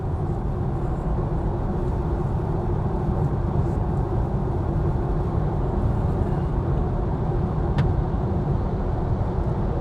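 A VW ID Buzz electric van drives steadily with a broad, constant road and motor roar, near and loud throughout, with no voices.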